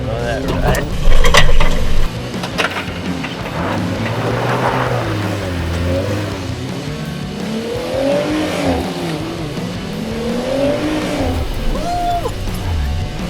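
A 2017 Jeep Wrangler Rubicon crawls off-road in low gear, its engine droning and rising and falling steadily with throttle, loud and close, with a heavier surge near the start.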